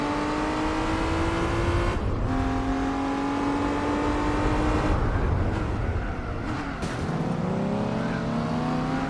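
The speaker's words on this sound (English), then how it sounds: "I'm trying to out-drag an 800 horsepower TVR" Racing car engines in Gran Turismo 4, including an 800 horsepower TVR, revving hard with rising pitch through gear changes, loud and close, with brief drops between shifts.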